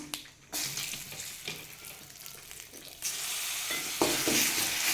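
Garlic cloves and curry leaves frying in a hot pan, a loud close sizzle with stirring scrapes that surges sharply as more goes in, no voices.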